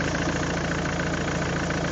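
A Ford Kuga engine runs steadily after an injector seal replacement, with a continuous loud, dense idle and a faint uneven chugging pulse underneath and no voices.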